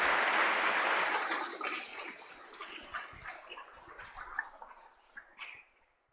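Church congregation clapping in thanks at a confirmation service, a dense burst of applause that thins out into scattered claps and fades to quiet.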